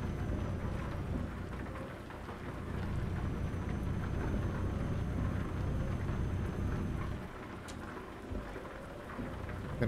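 Heavy rain pours steadily during a drive, with deep rumbling thunder woven through the constant hiss and a brief sharp crack near the end.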